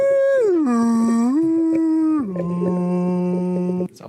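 A voice imitates whale calls in long, sliding, mournful tones that dip and hold, loud and close to the microphone, alone with no other talk.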